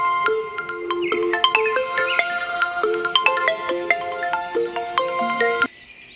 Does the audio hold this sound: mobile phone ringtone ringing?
yes